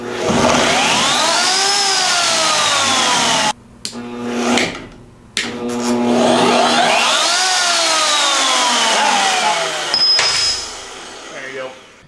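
A VEVOR D8840 magnetic drill with sliding head and variable reversible speed runs tapping a hole in metal, its motor whining up and down in pitch in two long runs separated by a brief stop and clunks.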